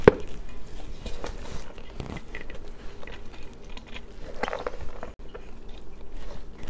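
Tofu filling for plant-based meal prep being mixed by hand, close irregular squishing, scraping and tapping of a utensil in a bowl, no talking.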